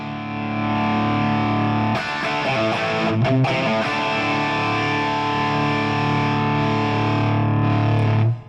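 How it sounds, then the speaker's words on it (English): Heavily distorted electric guitar through a Fractal amp modeler with the master volume raised, sustained thick chords ringing loud and continuous with a brief choppy passage early on, no voices. "there is a limit where you increase the master volume, but only the distortion increase"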